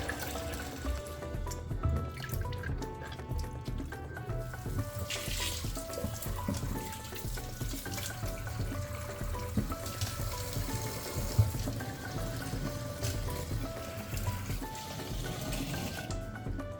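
Tap water runs steadily into a sink over vegetables in an adjustable IKEA colander, a continuous, fairly quiet splashing and trickling with occasional small drips and clinks throughout.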